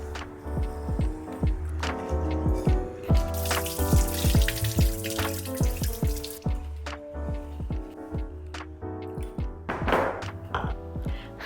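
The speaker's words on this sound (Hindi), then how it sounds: "सबसे पहले चावल को अच्छे से धो करके हम भिगो देंगे" Two cups of rice being washed by hand in water, giving a close, steady run of sloshing, dripping and light knocking sounds without any talking.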